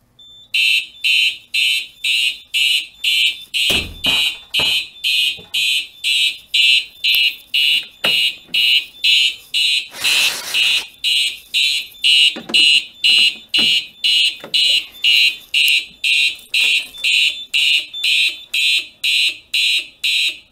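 A Simplex 4010 fire alarm system in a school sounds during a test, its horn pulsing in a steady, rapid rhythm for the whole stretch, loud and close, with some faint handling thumps beneath.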